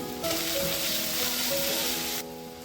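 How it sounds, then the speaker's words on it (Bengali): Garlic and onion frying in hot oil give a steady, close broadband sizzle that holds strongly for about two seconds, then drops back to a softer hiss, with faint tonal hum underneath. "তেলের ওপর দিয়ে দিচ্ছি রসুন রসুনটা একটু ভাজা ভাজা হয়ে এলে দিতে হবে পেঁয়াজটি"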